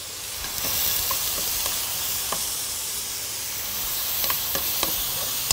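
Minced onions cook in homemade ghee with salt and black pepper, giving a steady close sizzle with scattered soft clicks of stirring throughout.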